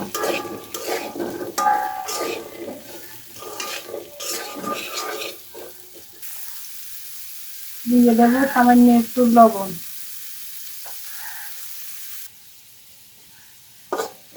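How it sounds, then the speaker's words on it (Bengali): Potatoes fry with turmeric in a pan, a soft sizzle under a person talking, then sharper metallic scraping and clinks from stirring, followed by a quiet stretch. "সামান্য হলুদ, একটু নেড়ে চেড়ে লাল লাল করে ভেজে নেব"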